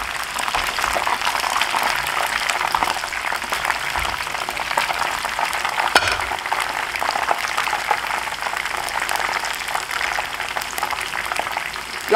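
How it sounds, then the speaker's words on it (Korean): Steady, dense crackling and bubbling of chicken deep-frying in hot oil for Chinese lajiji, continuous and close, with no talking over it. "역시 두 번 튀기셔도 되고 한 번만 튀기셔도 됩니다."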